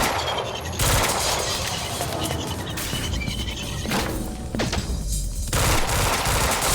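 Dense, loud automatic gunfire from a hard-recoiling gun in the shooter game Quantum Break, sustained bursts with brief gaps and crashing impacts, no talk.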